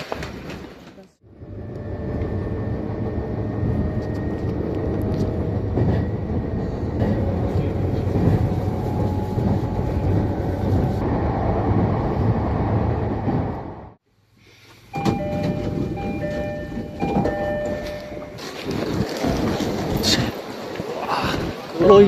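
Train pulling into Kuroiso Station on the Tohoku Main Line in Japan, a sustained rumbling ride with rail noise, a brief hush, then door chimes and station sounds, with people talking over it.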